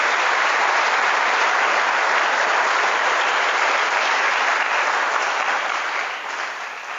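Dense, steady applause from a large audience at a gathering fills the whole stretch, loud and close with no voices, then thins slightly near the end.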